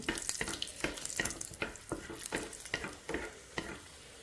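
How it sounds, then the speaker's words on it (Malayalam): Ginger and garlic sautéing in coconut oil for a peanut chutney: a close, crackling sizzle broken by a steady run of sharp stirring scrapes roughly every half second. "ലേശം ഇഞ്ചിയും ഒരു വെളുത്തുള്ളിയാണ് ഇട്ടിട്ടുള്ളത് അതും കൂടെ നമുക്ക് ചെറിയ രീതിയിൽ ഇതിനകത്തിട്ട് നമുക്കൊന്ന് അനത്തിയെടുക്കാം"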